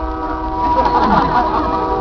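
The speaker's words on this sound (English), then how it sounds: "Somebody get that damn train out of here." A train rumbles past at a Renaissance festival, a steady loud roar with a faint horn-like tone, holding level and swelling slightly in the middle.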